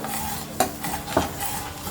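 Ginger, coriander and green chilli paste with yogurt frying in a pan while being stirred, a steady close sizzle broken by two sharp spoon scrapes against the pan.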